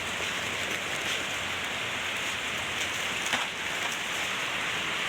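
Rain pours steadily in an even, dense hiss that stays constant throughout, close and fairly loud, with no voices.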